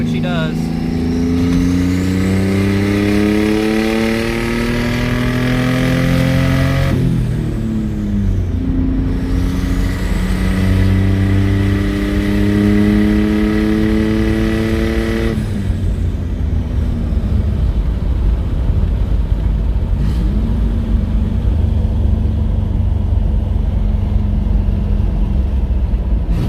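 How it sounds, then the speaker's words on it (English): A twin-turbo V6 Mustang accelerates hard at full throttle in second gear, loud and close, with rising engine tones that climb, drop at shifts around seven and fifteen seconds, then climb again, and a voice talks over it. "Second gear, pedal to the floor, see what she does."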